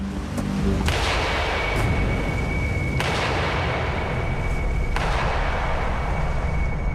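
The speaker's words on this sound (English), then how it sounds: "a gunshot is fired at another part of the bay that echoes off the great cliff face" Several sharp gunshots ring out across a Hawaiian bay, each one followed by a long echoing tail off a great cliff face over a steady background hiss.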